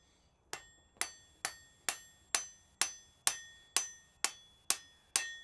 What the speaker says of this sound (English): this is a really nice hammer